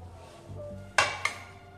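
A cooked omelette is lifted out of a pan onto a plate, with two sharp metallic clinks of utensil against pan a moment apart over quiet room hiss.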